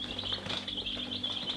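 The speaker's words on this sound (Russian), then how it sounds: "даже вот цыплята уже вывелись" Newly hatched chicks peep continuously in a barn, a dense, steady chorus of high chirps close by, with a low electrical hum underneath and no talking.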